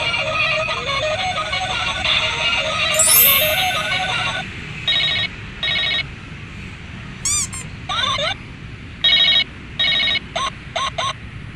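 A Hello Kitty toy telephone rings in short, bright electronic bursts repeated in an uneven pattern, near and clear, after a stretch where a voice is heard over background noise.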